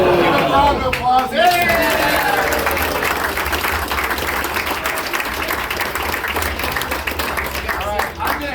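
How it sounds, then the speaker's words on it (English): A crowd at a car rally awards gathering claps and applauds loudly and continuously, with chatter and a few raised voices and whoops mixed into the dense, close clapping. "Give a round of applause."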